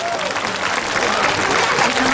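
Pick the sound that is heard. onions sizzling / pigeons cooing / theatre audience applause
theatre audience applause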